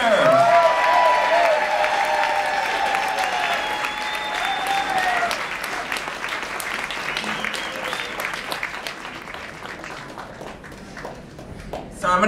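Audience applause after a storyteller's set at a Moth StorySLAM, loud dense clapping that starts at full strength and gradually thins and fades, with a host's voice coming in near the end.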